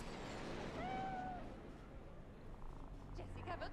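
A cat purrs steadily while being petted in the Cyberpunk 2077 video game, a soft continuous rumble with a brief meow-like tone near the start, under someone talking.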